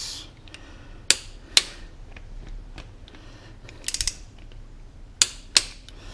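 Torque wrench tightening bolts from the center outward on a Fiat Strada engine during cam belt repair: several sharp mechanical clicks, two near 1 s, a quick cluster around 4 s and two more near 5.5 s, over faint background hum.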